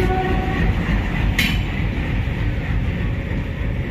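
Puri–Anand Vihar Nandankanan Express passenger train running, a steady loud rumble of wheels and carriage noise throughout with a brief sharp burst partway through, no voices.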